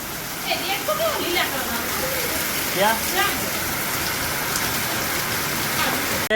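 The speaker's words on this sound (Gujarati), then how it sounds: "વરસાદ આવ્યો" Steady rain hisses throughout, with people talking over it near the mic and a brief knock at the end.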